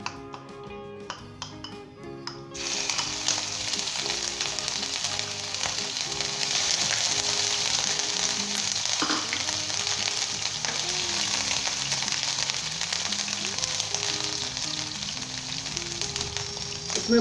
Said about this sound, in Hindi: आपने एहतियात के साथ इसके अंदर अदरक लहसुन का पेस्ट डालना है।